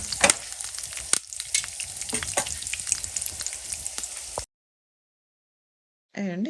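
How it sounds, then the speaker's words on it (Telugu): Asafoetida powder is fried in a hot tempering for chutney, giving a loud, close, continuous sizzle with stirring for about four seconds before it cuts to silence, then a brief voice. "కొంచెం ఇది వేస్తాను ఇంగువ పొడి. వేసి వేయించేసి వాటిని ఈ చట్నీలోకి కలిపేస్తాననమాట."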